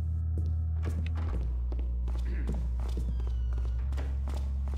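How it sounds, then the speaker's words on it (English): Footsteps echo in a Thief fan mission, a series of soft thumping steps at an uneven pace, heard over a deep, droning game hum. "Where am I hearing these footsteps from?"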